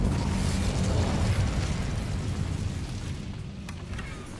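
An Incendio fire spell cast in the Hogwarts Legacy video game bursts out as a loud, rushing fiery roar that fills the whole moment. It fades slightly toward the end.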